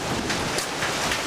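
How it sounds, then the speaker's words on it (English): Big hailstones pelting down in a spring storm in Creve Coeur, Missouri, a dense, steady clatter and hiss with scattered sharper impacts, loud and continuous. "we got big pieces of hail coming through"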